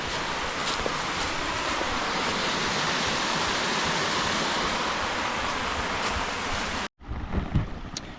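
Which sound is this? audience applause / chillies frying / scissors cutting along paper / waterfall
waterfall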